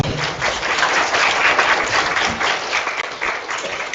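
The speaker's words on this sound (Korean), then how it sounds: "오늘 소중한 강연해주신 저희 현창호 연구원님께 다시 한번 큰 박수 부탁드리면서" Sustained applause from a lecture-hall audience at the end of a talk on AI in mobility by a Hyundai Motor researcher, dense and steady throughout with no speech.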